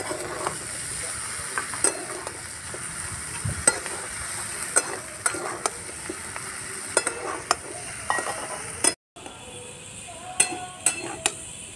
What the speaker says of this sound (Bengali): ভালো করে তরকারিটা ভেজে নিতে হবে। হালকা আঁচে ভেজে নিতে হবে